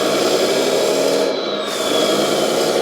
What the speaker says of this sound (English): And now we start the engine sound.